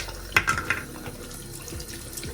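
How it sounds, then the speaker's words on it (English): Hot water runs from a kitchen tap into a sink during paint-sprayer cleanup, a steady close splashing stream with a few louder gushes near the start. "once you have some hot water going"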